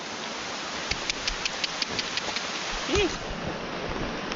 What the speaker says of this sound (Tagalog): Ulan pa.